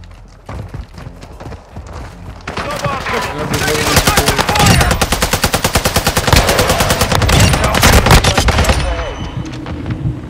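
Rapid bursts of TAQ-V battle rifle fire in a first-person shooter video game, loud and near, with dense automatic volleys over roughly the last seven seconds amid game effects and occasional voice.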